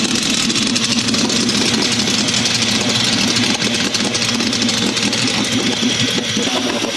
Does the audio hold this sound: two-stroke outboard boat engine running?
yes